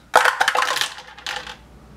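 HeroQuest combat dice tumble and clatter across a hard board-game surface in a quick rattling burst, then a second shorter rattle as they settle, close and clear with no talk.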